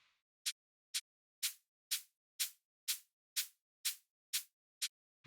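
A plugin-processed hi-hat plays about ten evenly spaced, bright hits after a brief faint hiss at the start. The early strikes are short and the later ones ring with longer, fuller decays, all close and dry.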